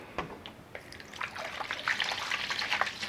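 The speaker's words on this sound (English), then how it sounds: "So you want to put in your water in the bowl." Water trickles and splashes into a bowl at close range, a quiet irregular pour with small droplet spatters and no talking.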